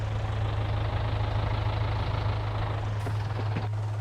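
A tractor engine in Farming Simulator 22 idles with a steady, droning low rumble, constant and unbroken, plus a few faint clicks near the end.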